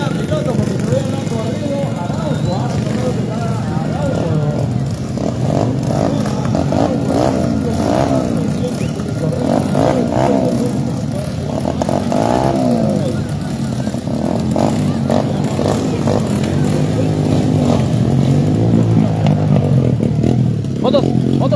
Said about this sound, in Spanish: Un motor super especial.